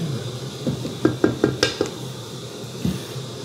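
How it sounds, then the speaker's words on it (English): Spatula scraping the sides of a plastic food processor bowl while making butter chicken, a run of five quick scrapes and knocks close up, then one more after a pause. "So we're gonna scrape down the sides of the bowl."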